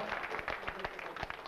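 A crowd claps and applauds steadily throughout, a dense patter of hands with a few sharper claps standing out.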